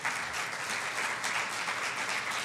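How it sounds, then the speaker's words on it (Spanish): Steady, dense applause from a church congregation answering the pastor's call to praise, sustained and even throughout with no voices standing out. "Dele una ofrenda de palmas al Señor."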